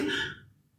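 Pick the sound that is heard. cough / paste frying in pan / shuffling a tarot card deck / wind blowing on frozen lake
cough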